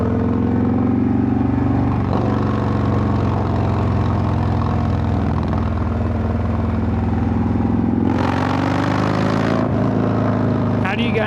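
A Harley motorcycle's exhaust, picked up by a mic mounted at the exhaust, gives a loud, continuous low engine rumble with shifting tone and brief surges. Wind or road noise bursts in near the end.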